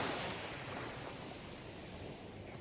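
Steady sea surf and rolling waves, a soft continuous wash of broadband noise heard alone at low volume.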